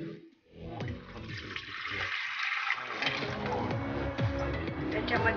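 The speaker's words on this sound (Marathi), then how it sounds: "एक तांब्या पाणी" A full lota of water gushes into a pot of dal and sour sorrel greens, a loud rushing pour building after a brief pause and continuing steadily to the end, with a voice faintly underneath.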